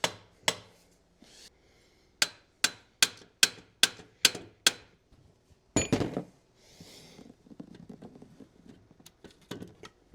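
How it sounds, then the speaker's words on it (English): Hammer tapping on a Chevy alternator to loosen it: a quick run of about ten sharp, close metallic taps in steady rhythm, then a heavier clunk and scattered quieter knocks and rattles, with no talking. "Maybe even just give it a few taps from this side."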